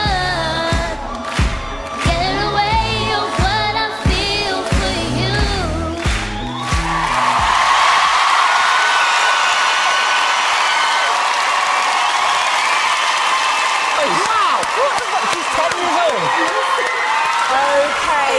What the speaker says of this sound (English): On their feet, a little more clapping.